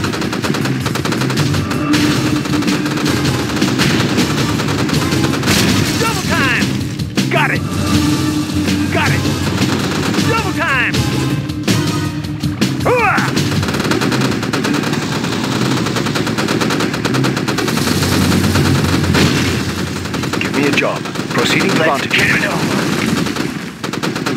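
Sniper shots and machine gun bursts crackle through battle in the Red Alert 2: Yuri's Revenge strategy game, under a dense backdrop of game noise, with brief unit voice lines.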